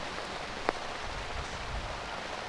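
Steady rain pours down on an outdoor archery tournament course, a dense even hiss with one brief sharper tap partway through; no voices.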